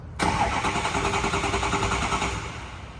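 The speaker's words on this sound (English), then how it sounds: "I can crank the engine over again with the remote start button" Car engine cranked over with a remote start button during a voltage test with a meter, a loud steady churning crank that begins abruptly and runs for nearly three seconds without catching.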